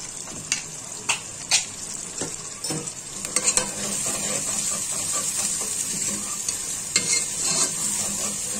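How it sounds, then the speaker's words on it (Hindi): Fenugreek and cumin seeds sizzle in hot oil for lauki curry, first a few sharp spoon taps and stirs, then a steady loud crackling fry that continues to the end. "दाना मेथी और डालूंगी जीरा"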